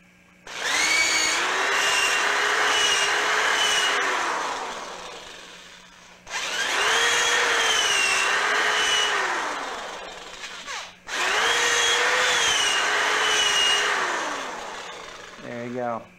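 A power drill bores out holes in a lightsaber part, running in three long whirring bursts with brief pauses between them, its pitch wavering as the bit works up and down, close and loud.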